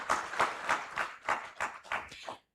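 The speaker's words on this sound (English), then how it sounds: "Another big round of applause, please." Applause from the audience at a Ugandan national agricultural extension week event, heard as distinct rhythmic clapping bursts that repeat steadily for about two seconds, moderately close, with no talking, before it cuts off.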